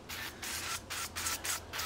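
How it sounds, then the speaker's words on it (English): Duck fat cooking spray misted onto raw picanha steaks before searing, in about five short hissing bursts with brief gaps, close and steady, with no talking. "I'm just going to take a little bit of this duck fat spray, and we're going to put just a little bit on here"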